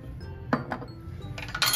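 Salt is spooned into a kadhai, with quick metallic clinks and taps of the spoon against the pan in a short close burst.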